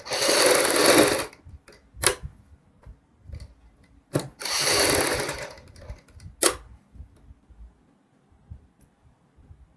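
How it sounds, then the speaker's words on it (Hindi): Sewing machine stitching along a kurti neckline, two loud close bursts of rapid needle running separated by clicks and handling taps, then quieting toward the end with no speech. "जो हमारी ये किनारी वाली सिलाई है इसको हमने डबल कर लेना है इस तरीके से"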